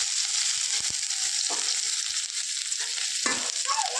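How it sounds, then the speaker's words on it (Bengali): Onion and two dry red chillies fry in hot oil with a continuous close sizzle and occasional stirring scrapes, and no one speaks. "তেল গরম হয়ে গেছে, দুটো শুকনো লঙ্কা, পেঁয়াজ"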